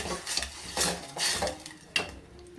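A spoon scrapes and clanks against a pot while curd is stirred into Andhra-style majjiga charu, in several distinct strokes with a light sizzle underneath.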